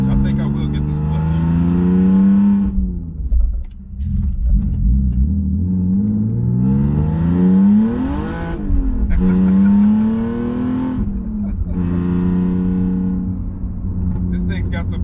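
A supercharged BMW E46 330i with a twin-screw supercharger pulls hard through the gears, engine rising in pitch with each run, dropping at shifts, then climbing again, loud from inside the car.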